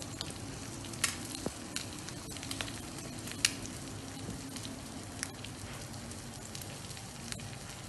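A cheese egg omelet fries in an oiled pan with a steady close sizzle, broken by a few sharp crackles and pops, and no voices.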